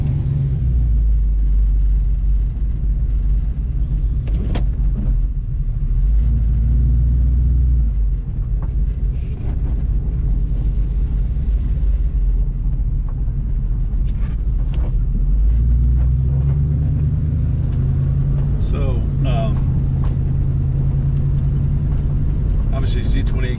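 A 1973 Chevrolet Camaro Z28 RS engine rumbling during a test drive, a loud continuous low drone from inside the car with slight swells in revs and occasional clicks and rattles.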